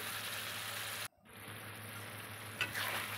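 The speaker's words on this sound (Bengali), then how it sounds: "মশলাটা বেশ কষানো হয়ে গেছে, তেল ছেড়ে যাচ্ছে" Spice paste frying in oil with potatoes, a close, even sizzle broken by a sudden sharp silence partway through, then a quieter sizzle that builds back up with a faint clink near the end.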